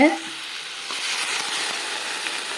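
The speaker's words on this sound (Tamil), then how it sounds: "இப்போ நிறைய எண்ணெயை விட்டுருக்கோம் வதங்கிட்டுருக்கு" Vegetables for chilli chapati sauté in plenty of oil, giving a steady, close sizzle and frying hiss that carries on throughout with a brief voice at the start.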